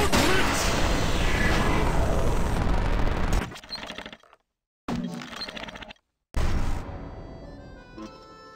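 Rapid video game gunfire fills the first three and a half seconds as a loud, dense burst, then drops away into broken, quieter game noise with short silent gaps.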